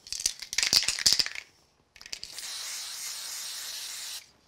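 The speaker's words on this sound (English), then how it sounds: "So just using some spray glue on it." Close, hissing bursts of a spray glue can, a rapid rattly series of short sprays, then a pause and one long steady spray before it cuts off.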